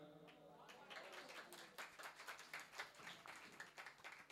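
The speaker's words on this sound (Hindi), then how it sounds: "ताली कमजोर है मतलब आधा अच्छा लगा।" A small audience at a Jain temple gathering claps weakly and unevenly, soft scattered hand claps after a voice trails off, the clapping quiet and thin rather than a full ovation.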